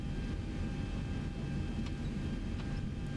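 Boeing 737-800 jet engines in the X-Plane 11 flight simulator, running as a steady, loud low roar with a constant whine above it, unbroken throughout with no talking.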